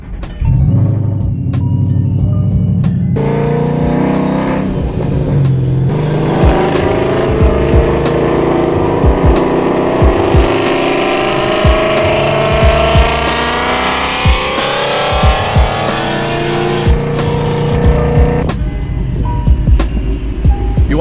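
A loud Ford Mustang engine revs and roars close by, rising and falling in pitch over a rumbling idle, with rapid ticking throughout.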